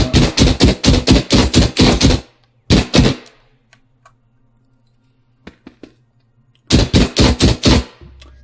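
Rapid automatic gunfire from a first-person shooter built in Dreams on PS4. Loud, close bursts of evenly spaced shots are followed by a quiet pause with a few clicks, then another fast burst.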